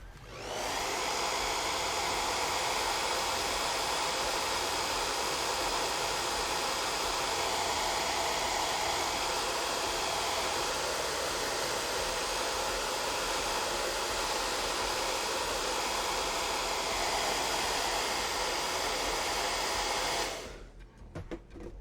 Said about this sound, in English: That's why you get a hairdryer for your hobby bench.